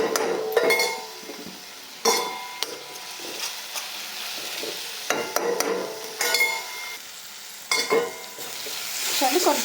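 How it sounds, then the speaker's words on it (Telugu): Coriander and chili paste fries in a pan and is stirred repeatedly; bursts of scraping and clinking come in an irregular rhythm over a soft, steady sizzle, close by and with no talking. "కొంచెం అయితే కలిపేసుకుంటూ మనం కొత్తిమీర కారం అయితే ఫ్రై చేసుకోవాలి"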